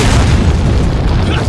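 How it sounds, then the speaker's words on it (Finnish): Rocket launcher blast in the video game Resident Evil 4: a loud, heavy booming explosion with a deep low rumble that fills the whole moment and holds steady throughout. "Ammun singolla jalkoihin"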